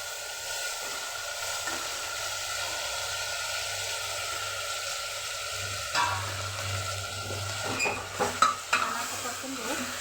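Mutton sautés in a pan with a soft, even sizzle, then a spoon scrapes and stirs it in a few close, clattering strokes near the end.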